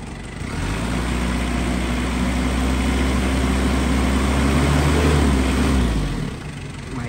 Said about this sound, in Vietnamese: Đời này động cơ Mazda cực kỳ êm mà chạy cực kỳ thích luôn, cực khỏe.